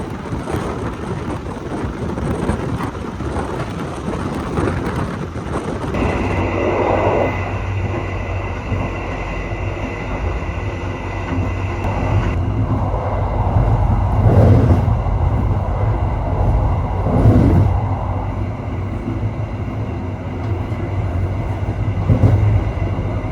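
The KA Banyubiru passenger train rides from Semarang to Solo, heard from inside as a continuous rumbling roar of wheels on rails, with a brake-like whine setting in and occasional clunks.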